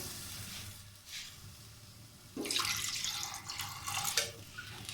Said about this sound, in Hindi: अब हम यखनी जो गोश्त की यखनी थी वो डालेंगे